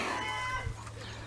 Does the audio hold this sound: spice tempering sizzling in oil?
no